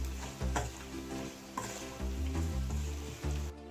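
Lemon rice seasoning with turmeric and salt is stirred in a pan, the spoon scraping and knocking in several distinct strokes over a low steady sizzle, close and clear with no voices.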